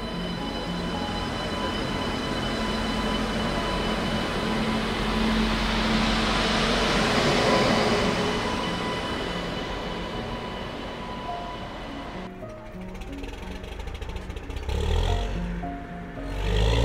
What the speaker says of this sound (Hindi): अब पैंटो अप हुआ, लोकोमोटिव जो है वो यहाँ से अब अलग हो जाएगा